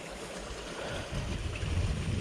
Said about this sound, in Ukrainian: Зараз будуть набирати, водичка ще йде.